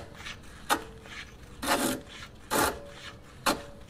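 Dirt and grime grinding inside a Truhart coilover height adjuster on a Nissan 350z as the collar is spun by hand: four separate rasping scrapes, the middle two longer, close and fairly quiet, with faint gritty rubbing between them.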